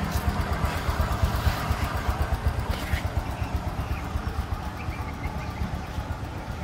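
A 2009 Honda Future Neo FI small motorbike engine idles nearby with a steady, rapid putter and a light mechanical clatter, running alone without talk.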